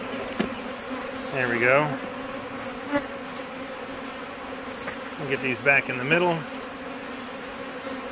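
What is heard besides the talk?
honeybees buzzing in an overflowing hive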